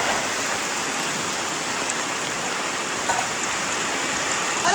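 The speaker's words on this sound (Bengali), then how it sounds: "বিশাল বৃষ্টি না?" Heavy monsoon rain pours down in a dense, steady hiss of drops, loud and close throughout with no one speaking.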